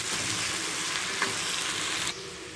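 Chopped veld grape (pirandai) is sautéed in hot oil for thuvayal, making a steady, close, dense sizzle with a faint stir-scrape midway. The frying eases slightly near the end.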